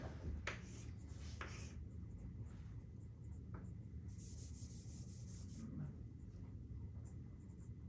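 A lecturer drawing on a board during a mathematics lecture produces repeated scratchy, rubbing strokes of chalk or marker, with a longer continuous stroke in the middle, all close and moderately loud against a steady room hum.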